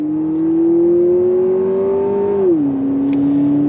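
The turbocharged engine of a 2026 Lexus TX 350 F Sport with all-wheel drive pulls under throttle as a loud, rising drone that eases at the shift, then settles into a steady hum.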